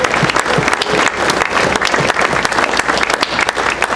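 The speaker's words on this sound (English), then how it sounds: "please give him a round of applause" Audience at a college athletics hall of fame ceremony applauding a wide receiver, a dense, loud, steady wash of many hands clapping together with some crowd noise, sustained throughout.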